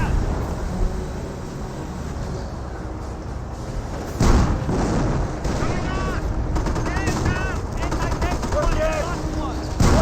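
Battle noise from Company of Heroes: scattered gunfire and a heavy frag grenade blast around four seconds in, over a constant rumble, with someone commentating throughout.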